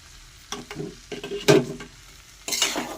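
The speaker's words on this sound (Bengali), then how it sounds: "ভালো করে নাড়াটা দিয়ে মিশিয়ে গরম মশলার ঘিটা" Ghee and garam masala being stirred into a banana-flower curry in a pan, a few scraping strokes of a spoon with soft sizzling between them, close and without talk.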